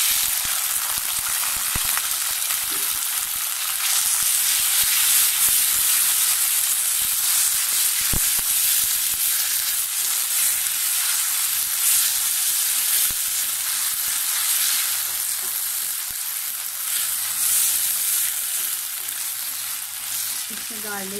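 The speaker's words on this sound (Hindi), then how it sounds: "अब इसमें हम ये नूडल डालेंगे, 1 पैकेट बॉयल नूडल है।" Boiled noodles stir-fry with browned garlic in a pan, giving a long steady sizzle with occasional sharp spatula knocks and scrapes throughout; no talking.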